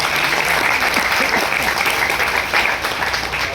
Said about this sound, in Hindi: इसलिए तालियां।